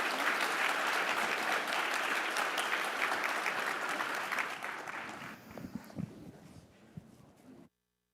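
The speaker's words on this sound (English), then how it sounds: "please join me in a round of applause for our panelists" Sustained applause from a conference audience for a panel, dense and steady for several seconds, then thinning into scattered claps before stopping abruptly.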